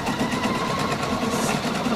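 A Pfaff Quilt Expression 720 sewing machine stitches ribbon with a steady, even motor hum and rapid needle rhythm that runs unbroken and close by for the whole stretch.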